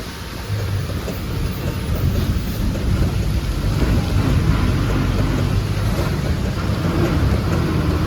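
Heavy rain during a bus journey to Munnar, Kerala, makes a dense, steady roar that stays constant throughout, mixed with the low rumble of the moving bus and no speech.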